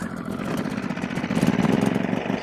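A Champion 2500 dual fuel inverter generator starts up, its small engine catching and settling into a rough, close, steady running drone that grows slightly louder.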